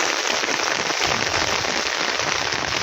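Steady rain pours down near a hillside river at the India–Bangladesh border during a flash flood, a dense, even hiss with scattered crackling drops that continues without a break.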